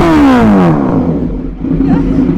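A Kawasaki Z900 motorcycle engine revs loudly up close, a sharp rising then falling roar that settles into a rough idle, with voices speaking over it.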